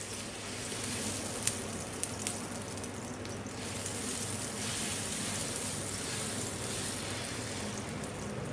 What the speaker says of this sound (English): For making dosas, the tawa should not be very hot. That is why this water is sprinkled.